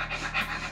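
Open-mouth breathing while nosing whisky, a short run of close, breathy panting exhalations at low level with a steady hum underneath.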